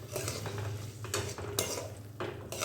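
Green peas sautéing in oil in a pan, with clinks and scrapes of a metal spoon against the pan over a low sizzle, close by, without speech.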